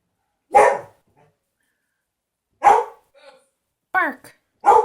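Four short, sharp dog barks arrive in separate bursts with quiet gaps between them, fairly close and loud.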